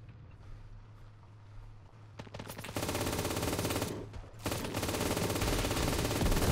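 An MG3 machine gun in a desert warfare video game rips off long, loud sustained bursts after a quiet start, with one brief pause between the strings of rapid fire.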